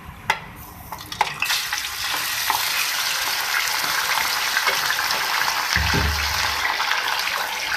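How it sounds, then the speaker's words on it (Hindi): Chicken pieces dropped into hot oil in a pan for a roasted chicken masala, a sharp clatter then a loud, steady close sizzle with stirring scrapes and no talk. "अब इसमें चिकन ऐड करूँगी।"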